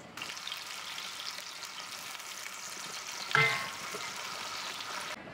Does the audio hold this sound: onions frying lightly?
yes